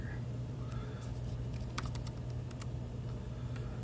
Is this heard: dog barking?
no